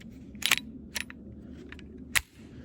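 Three sharp gunshots from a Kel-Tec PMR-30 .22 Magnum pistol fired one-handed outdoors on a sunny range, each a crisp crack spaced unevenly, the last followed by a brief drop in background.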